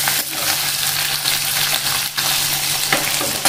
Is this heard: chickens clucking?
no